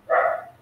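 A single short dog bark, close and fairly loud, lasting a fraction of a second before fading into quiet.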